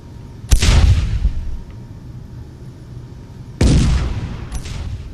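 Heavy 300 millimeter cannons firing in the Space Engineers game, two loud booming blasts about three seconds apart, each with a sharp attack and rolling decay, followed by a smaller crack near the end.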